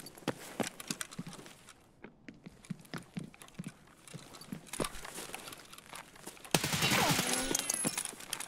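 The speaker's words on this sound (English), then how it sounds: "There's somebody shooting here." Gunfire in the Escape From Tarkov video game, scattered sharp shots and bursts at varying distances over ambient noise, some rapid clusters, with a louder rustling swell near the end.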